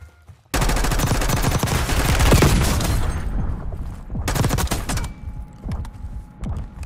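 Intense bursts of rapid automatic gunfire in the video game Warzone, a dense loud volley lasting a few seconds, then a pause and another shorter burst with scattered distant shots afterward.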